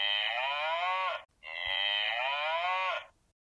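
A farm cow moos twice, close and loud, each a long sustained low call. A brief gap separates the two moos, and the second tails off into silence.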